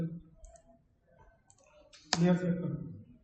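A single sharp click of the Enter key on a computer keyboard during a Photoshop clone stamp session, with someone talking softly before and right after the press.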